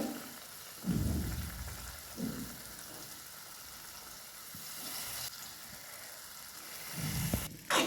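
Onion-based gravy sizzling in hot oil in a pan before soaked moong dal goes in, a steady soft frying crackle with a few louder bursts, no talking.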